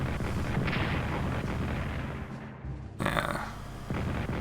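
Booming artillery barrages from the Strategic Command World War I strategy game, set around Belgrade, roll on as a dense, continuous rumble of overlapping blasts, with a sharp fresh burst near the end.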